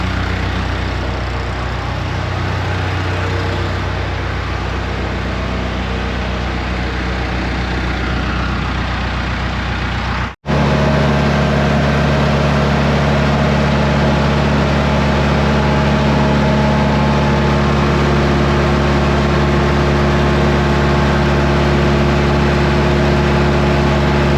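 A heavy diesel engine of a John Deere 450G dozer runs steadily at idle, loud and close, with a brief cutout partway through before it rumbles on unchanged.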